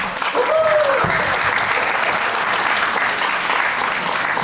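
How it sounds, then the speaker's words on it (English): An audience at a panel discussion on saving money breaks into loud, sustained applause that fills the room, with a brief voice or whistle near the start. "Come on, have a big round of applause."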